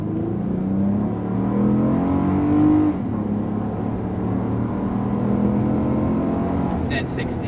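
A 2009 Acura MDX SUV accelerates hard from a standstill to 60 mph, its engine note rising through the gears with a brief shift dip near three seconds, loud and close from inside the cabin, with faint talk at the end.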